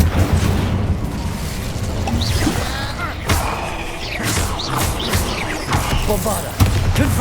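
In Hogwarts Legacy, a fire spell erupts amid a busy magical battle, with repeated booming crashes and thuds, scattered bright hits and a heavy low rumble over several seconds.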